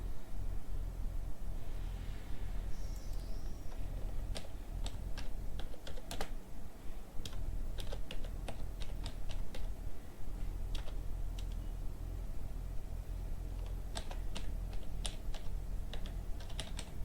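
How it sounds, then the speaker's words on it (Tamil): Rapid typing on a computer keyboard while working in Photoshop, with sharp, close clicks in irregular bursts and short pauses over a steady low hum, and no talking. "இங்கே நம்ம டைப் பண்ணலாம்."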